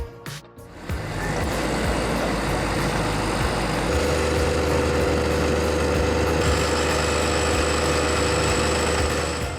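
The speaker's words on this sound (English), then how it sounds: "That's the John Deere 7530, stuck halfway up its wheel, dragging its plow behind." A John Deere 7530 tractor stuck in sticky mud with a plough dragging behind: a loud, close, continuous diesel engine drone with a deep low rumble that holds steady throughout and steps up slightly partway through.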